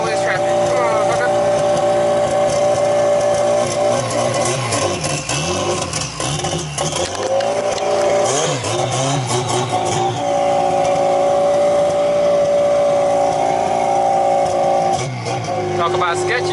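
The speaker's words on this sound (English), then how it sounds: "Going for the first drive, it's loud as shit, only downpipe." A Honda Accord AWD with an H2B engine swap and straight downpipe exhaust on its first drive, a loud raspy engine drone that rises and falls through the gears and stays close throughout, with talk over it.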